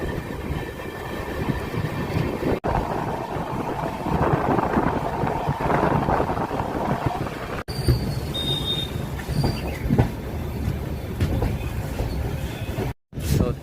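The Palnadu SF Express, running with LHB coaches, gives a steady rail rumble with rolling wheel noise throughout, fairly close and continuous, with brief dropouts and some background voices mixed in.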